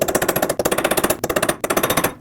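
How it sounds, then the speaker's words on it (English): A hammer strikes a chisel rapidly and repeatedly to stake the axle nut of a 2006-2015 Lexus IS250 front hub, delivering loud, close, sharp metallic blows in quick bursts with short pauses between. "So take a chisel and a hammer and hammer it down right in the middle."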